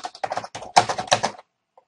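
Quick bursts of keystrokes on a computer keyboard while entering notes in drafting software, close and clicky, in two clusters and then trailing off into silence.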